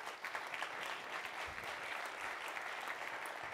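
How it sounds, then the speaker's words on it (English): Sustained applause from an audience at a public address, a dense, even wash of many hands clapping that holds steady throughout at moderate volume, with no voices over it. "Give her a great round of applause if you could."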